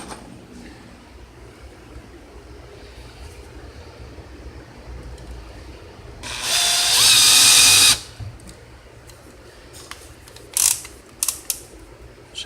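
A cordless drill drives screws into an HVAC mounting plate, a short burst of high whining spin followed by several sharp ratcheting clutch clicks as the torque setting slips, with quiet pauses around it.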